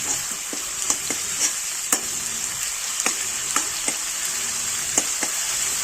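Tomato paste being sautéed in a pan for pav bhaji, giving a constant bright sizzle with repeated light clicks and taps of a spoon stirring at irregular intervals, close and fairly loud.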